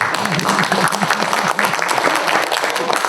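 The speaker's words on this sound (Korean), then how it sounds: "박수 한번 주시면 안 되겠습니다" A lecture audience at an academic conference applauds, a loud, dense burst of clapping filling the room, with a voice faintly audible underneath.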